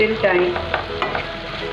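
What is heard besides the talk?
tomato and vegetables roasting in a pan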